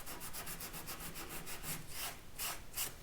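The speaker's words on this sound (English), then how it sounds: "sand that off" Sandpaper rubbed by hand over a wooden hope chest part to remove stray glue, a steady run of quick back-and-forth scratchy strokes, close and fairly quiet, with no talking.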